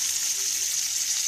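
Mustard seeds and urad dal splutter in hot oil for a tempering for tiffin sambar, a steady close hiss and sizzle at a fairly even level with no talking.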